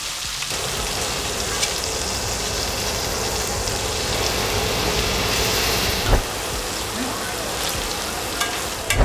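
Chicken breast frying in a pan with a steady loud sizzle and crackle throughout, close and continuous, with a few faint clinks.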